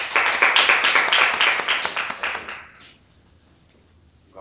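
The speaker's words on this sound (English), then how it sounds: "let's give him a round of applause" An audience at a Toastmasters meeting claps for the MC with a burst of moderately loud, even applause. It thins out after a few seconds and leaves near silence.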